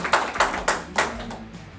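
Applause at a quiz-show final comes as a short burst of several sharp, separate claps, close and fairly loud, then fades out.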